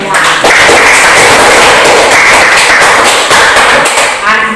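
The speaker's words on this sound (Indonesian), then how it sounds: "Tepuk tangan semua." A classroom of students claps together in loud, steady applause that fills the whole stretch, with dense, continuous clapping throughout.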